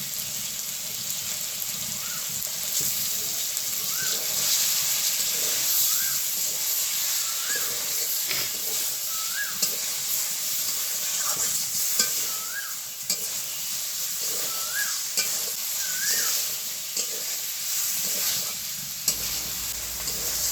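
Soya chunks and egg being sautéed in a pan for a curry, with steady frying sizzle and hiss close up, broken by light stirring scrapes and a faint repeating beep in the background.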